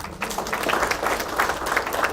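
Moderate, steady clapping from an audience seated at tables during a product launch event for a continuous glucose monitor, a short continuous burst at mid distance.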